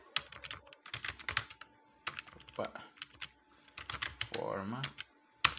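Bursts of rapid clicking on a computer keyboard, close and irregular, with a person speaking briefly between the bursts.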